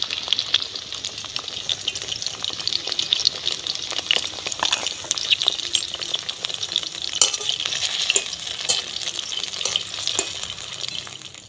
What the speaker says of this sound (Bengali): তেলটা গরম হয়ে গেছে, তেলের মধ্যে আমি এক এক করে নেবো, নিয়ে দিয়ে দেবো।